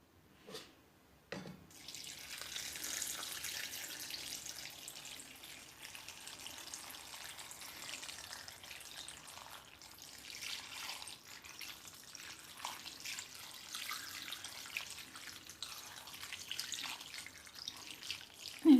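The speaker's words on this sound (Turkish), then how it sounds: "Şimdi suyunu ilave edelim." Water runs steadily into a pot of zilbit greens on a home stovetop, a continuous close splashing and trickling stream that stays fairly quiet throughout, with no talking.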